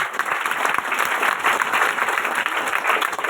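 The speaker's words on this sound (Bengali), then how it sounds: "বাংলাদেশ কোম্পানি লিমিটেডের জন্য জোর একটি করতালি চাই" A large audience claps loudly and steadily, a dense, continuous wash of hands without pause, with crowd noise mixed in and no clear speech on top.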